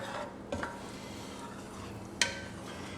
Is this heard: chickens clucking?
no